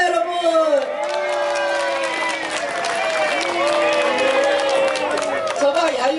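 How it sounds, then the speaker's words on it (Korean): A crowd at an outdoor campaign speech near Migeum Station voices a long, sustained wavering boo with many overlapping voices, fairly close and loud, swelling and easing over several seconds. "저봐 야유가 나오잖아."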